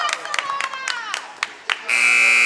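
A buzzer sounds at the end of a quarter in a girls' varsity high school basketball game, MSJ vs Twin Valley. A commentator talks over crowd noise, then a loud, steady electronic buzz holds for the final half second.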